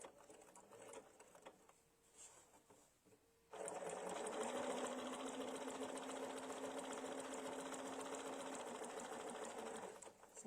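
A Solaris computerized sewing machine runs steadily after a quieter start, its motor humming with a fast, even needle rhythm for most of the stretch before stopping near the end.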